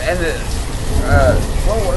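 Rain falling in the video game Banished, a steady hiss of drops with some brief tonal game sounds drifting over it, fairly loud and continuous.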